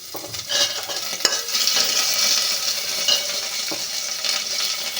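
Crushed chili and ginger paste hits a hot pan for khichuri and is stirred, giving a loud, bubbling sizzle with scraping spoon strokes and clanks close up, alone without talk.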